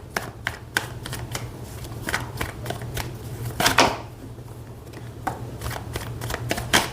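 Tarot cards shuffled and handled in a steady run of crisp riffling flicks and slaps, close and fairly quiet over a low steady hum, with a louder burst of shuffling near the middle.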